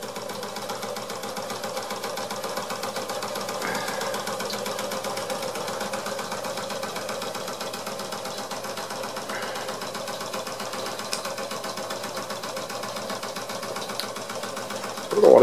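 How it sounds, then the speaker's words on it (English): A small Wilesco D141 model steam engine runs steadily with a fast, even mechanical chatter and faint hum, unbroken throughout at a constant moderate level. "And that engine hasn't even missed a beat."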